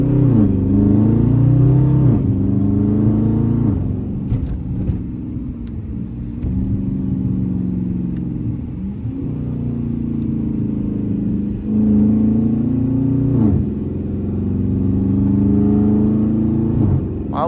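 A Dodge Charger R/T cruises a highway early in the morning, its engine a loud, steady low rumble heard from inside, with the pitch rising and dropping through several gear changes as it accelerates and eases off.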